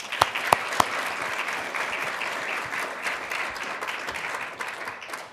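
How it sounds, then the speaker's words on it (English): A breakfast audience at an executive leadership event claps steadily to welcome a panel, dense sustained applause from a room of people with a few sharp louder claps near the start. "please join me with a warm welcome of applause of our esteemed panel"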